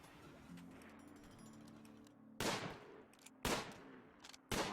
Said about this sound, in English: Those guns are really loud.